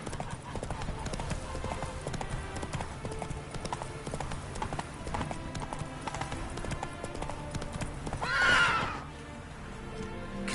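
Roach, a horse in a video game, clip-clops steadily at a trot with a loud whinny near the end, set against game background sound.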